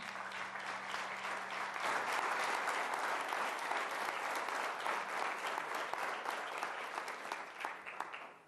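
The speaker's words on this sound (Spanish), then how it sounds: "Dale un fuerte aplauso, Señor." A church congregation at a youth camp service breaks into loud, dense applause that carries steadily for several seconds, then tapers away at the end.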